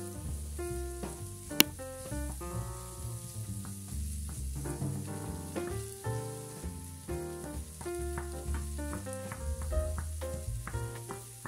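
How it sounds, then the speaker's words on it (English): Onion sizzles and crackles steadily in a hot frying pan, with occasional stirring scrapes and a sharp clink, no talking. "All of your onion into the frying pan and let it cook."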